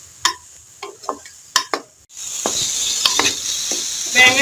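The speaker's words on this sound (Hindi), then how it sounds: "बैंगन को भी अच्छे तरीके से फ्राई कर लूंगी लहसुन के साथ।" Eggplant and garlic frying in a pan: a few clinks and stirs against the pan, then a steady close sizzle that swells and holds to the end, with no talking.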